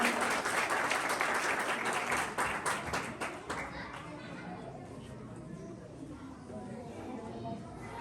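Audience applause at a school prize distribution ceremony, a burst of loud clapping that thins out after a few seconds into scattered claps and crowd chatter.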